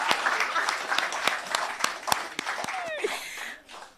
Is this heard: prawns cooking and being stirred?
no